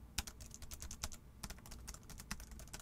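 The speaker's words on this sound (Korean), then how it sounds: "첫 번째는 요 녀석, 아이락스의 키보드고요. KR6170이라는 녀석입니다." Quick, irregular typing on an i-rocks KR6170 computer keyboard, a heavy board with soft, quiet keys, giving faint, close clicks with no voices.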